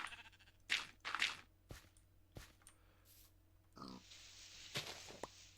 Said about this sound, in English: I just want to get that pig out before we do so.